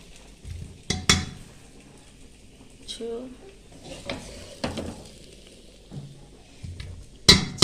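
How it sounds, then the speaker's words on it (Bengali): Mutton being moved from a kadai into a pressure cooker, with a few sharp scraping and clinking hits of a spoon on metal and soft shuffling between them, all close by. "কড়া থেকে মটন কীভাবে নামাচ্ছি প্রেশার কুকারে"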